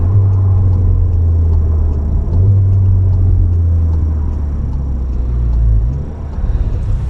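Stage 2 Volkswagen Golf R accelerating on a road, a steady loud low engine drone with rising and dipping pitch, continuous throughout with road rumble and no talk.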